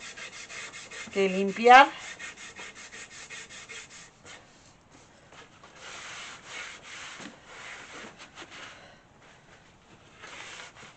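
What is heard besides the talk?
sander sanding old wooden piece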